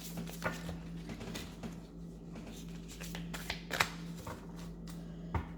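Tarot cards shuffled by hand in quick riffles and soft slaps, close and fairly quiet, with a faint steady hum underneath.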